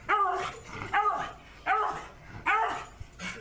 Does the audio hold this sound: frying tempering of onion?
no